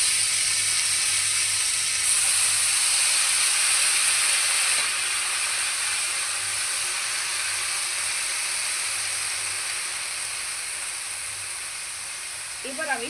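Red amaranth greens hiss and sizzle loudly in hot oil in a pan where eggplant has just fried, a steady bright crackle that eases slightly over time.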